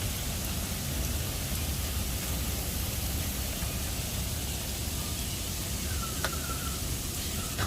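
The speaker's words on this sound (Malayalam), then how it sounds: "മഴ എന്ന് പറയുമ്പോൾ മഴയല്ല, മഞ്ഞും മഴയും കൂടെ ഉണ്ട്." Steady rain mixed with snow falls outdoors, a continuous broadband hiss with no clear individual drops, holding even and close for the whole stretch.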